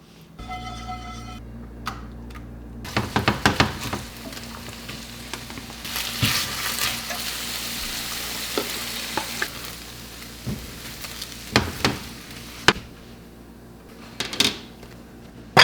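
Skinless marinated salmon fries in a pan with a steady, close sizzle, broken by intermittent clacks and scrapes of a utensil stirring and moving the fish, and no talking.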